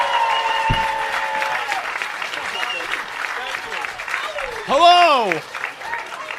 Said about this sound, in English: Start clapping up for my man